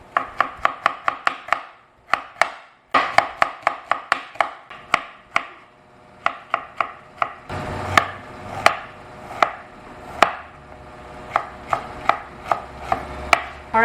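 A knife chops bamboo shoots for adobo on a board, with quick bursts of sharp close cuts separated by short pauses, then a steadier run of louder chops.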